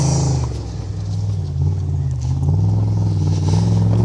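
Loud, close engine roar from a car climbing over rocks, revs rising and dipping with a rough, throbbing drone, no talking.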